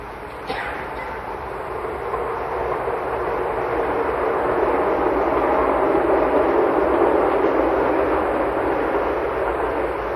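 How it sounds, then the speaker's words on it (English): A passing train, heard during an outdoor public discussion in Saanen in 1964, makes a steady broadband rumble that builds gradually and holds at a moderate, fairly distant level for about ten seconds with no speech over it. "There is a train went by just now."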